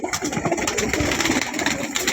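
Pigeons cooing without a break, a close, dense, throaty burble from several birds overlapping, with no talk.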